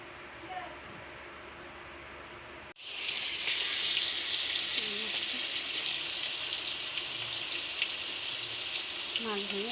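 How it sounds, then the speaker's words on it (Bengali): Salt-and-turmeric-coated fish hits hot oil in a wok after a quiet start, setting off a loud, steady sizzle that crackles on without a break. "এবারে নুন হলুদ দিয়ে মাছটা ভালো করে মেখে ভেজে নিচ্ছি।"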